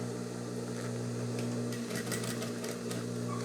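Sewing machine stitching fabric for a handbag: a steady low motor hum throughout, with a fast rattling run of needle strokes in the second half, close by and with no talk.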